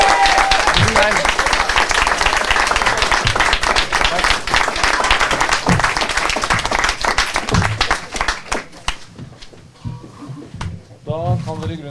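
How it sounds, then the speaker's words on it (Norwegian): Applause at a press conference, loud dense clapping from the gathered room that thins out toward the end, followed by sparse knocks and a voice speaking as it fades. "Applaus for Alexander."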